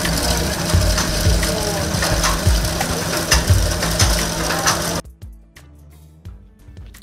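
Yarn spun from lotus plant stems at Inle Lake, Myanmar, a steady mechanical whir and clatter of a spinning wheel with rhythmic knocks that cuts to near quiet after about five seconds, leaving only faint clicks.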